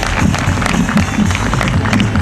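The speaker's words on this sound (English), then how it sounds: "Give a round of applause to Larken Rose." An audience gives a round of applause for speaker Larken Rose at a talk, steady, dense clapping filling the room for a couple of seconds.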